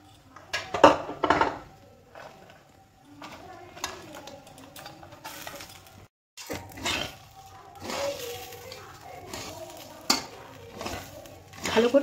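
A spoon scrapes and clinks against a pot while cashews and raisins are stirred into rice frying in ghee for basanti pulao, with a soft sizzle underneath and brief talk in between.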